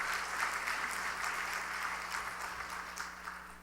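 A congregation claps together during a Sunday evening church service, the sound fairly soft and steady for a few seconds and tapering slightly at the end.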